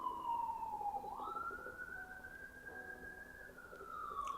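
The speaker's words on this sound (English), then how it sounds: "oh yeah, and the sirens come" A distant emergency siren wails, its pitch sliding down then rising and holding, over a low rumble of traffic.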